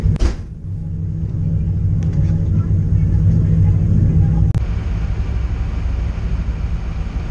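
A BMW E30 325i race car sits in the field at the start of a 30-minute race at Hockenheim, giving a heavy, continuous engine rumble. A brief sharp click cuts through it midway.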